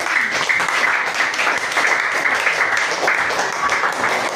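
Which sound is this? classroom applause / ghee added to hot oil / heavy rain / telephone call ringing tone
classroom applause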